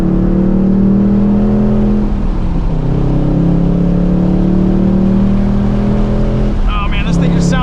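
A 2024 Ford Mustang Dark Horse with a Tremec manual gearbox, its engine loud and close as it revs and pulls on a race track, pitch rising and falling through gear changes, with no talking.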